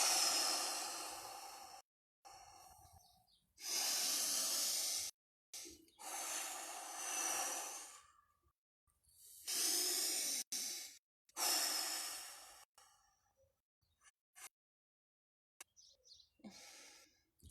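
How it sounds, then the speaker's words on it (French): Three long, deep breaths drawn slowly in and out during a waking body and spiritual exercise outdoors in the sun, each a broad airy rush separated by short pauses, close and clear with no talking. "Pour se réveiller, on va prendre 3 grandes respirations"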